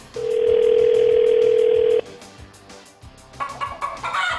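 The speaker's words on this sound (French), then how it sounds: "Deuxième sonnerie." One long, steady telephone ringing tone sounds loudly for about two seconds, then stops, followed by faint rustling and a few soft knocks.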